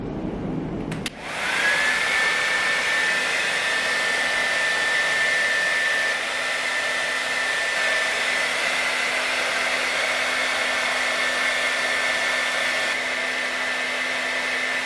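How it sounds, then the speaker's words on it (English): A handheld blow dryer on medium heat and high airflow, aimed downward while drying natural hair after a protein treatment, switches on after a brief click and then roars steadily and close with a thin whine, no talk. "I'm going to always make sure that I keep the blow dryer pointed downward."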